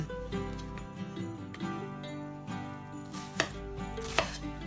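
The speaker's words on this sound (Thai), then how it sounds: "ปุบกระเทียมก่อนนะคะ" A knife taps and presses garlic on a cutting board a few times, soft and close, over a steady background hum.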